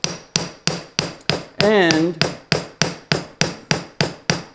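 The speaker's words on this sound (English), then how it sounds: "you'll hear me actually back off of the force that I'm using for each hammer blow" A hammer strikes a metal sheet during foldforming in a steady run of about a dozen sharp, ringing blows at an even pace. The blows are loud and close, and one word is spoken partway through.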